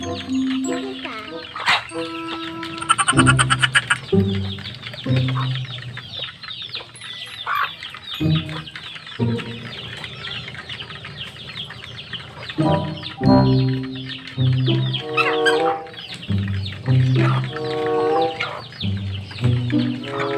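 A flock of chickens clucks at feeding time, loud and close, with repeated squawks and busy bursts of calls over the whole stretch, mixed with occasional human voices.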